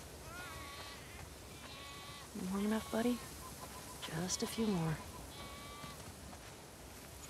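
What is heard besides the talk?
sheep bleating on a farm in The Last of Us Part II video game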